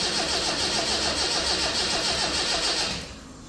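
A car engine with an EFI conversion, DRP/JT68 distributor and cam-wheel trigger cranks on a weak battery, giving a loud, steady rhythmic churn for about three seconds before catching and dropping to a lower running note.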